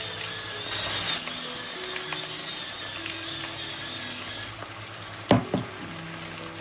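Chicken and broccoli for a quiche lorraine fry in a pan with a steady close sizzle, joined by a few sharp clinks of a utensil against the pan near the end.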